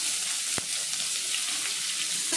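Chopped onion with five-spice seeds frying in mustard oil in a pan: a steady, bright hiss of sizzling close by, with one sharp clink of a utensil early on and no talking.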